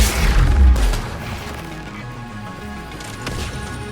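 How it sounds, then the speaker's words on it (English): Gunfire and a heavy impact in the video game Mass Effect 3, a loud crashing boom at the start that fades into quieter rumbling, followed later by a sharp crack. "Who's shooting at me?"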